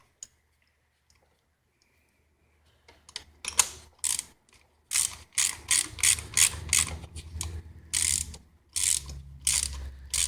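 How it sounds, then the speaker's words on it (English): A hand ratchet tightens a spark plug on a Lexus/Toyota V6 engine. After near silence, a series of sharp, close ratcheting clicks comes in repeated bursts. "use the ratchet just to fully tighten it down"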